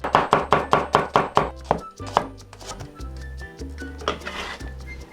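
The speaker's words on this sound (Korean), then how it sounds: "양파는 슬라이스 해주세요" Knife slicing onion on a cutting board, a fast run of crisp, evenly spaced chops up close, then slower irregular cuts, with a low musical bed underneath.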